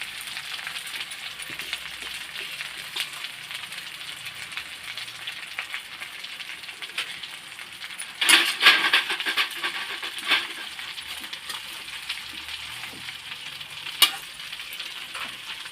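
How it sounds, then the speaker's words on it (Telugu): Gongura leaves fry slowly in a pan on a low flame, a faint steady sizzle with occasional stirring scrapes and a sharp clink near the end, close and quiet, with no voices. "గోంగూర అంతా సిమ్లో పెట్టుకుని నిదానంగా ఎర్రగా వేసుకోవాలి"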